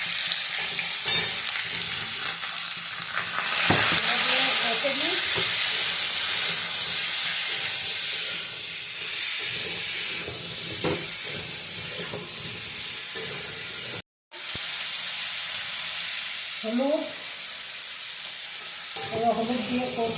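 Pumpkin pieces frying in hot oil with five-spice seeds and chilli, a loud, steady hiss and crackle of oil with intermittent scraping stirs, close up, cut by a brief silent gap.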